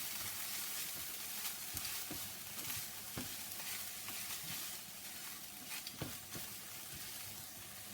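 Chicken korma base with ginger frying in a pan, a continuous hissing sizzle broken by repeated scraping stirs of a utensil, heard up close with no voices.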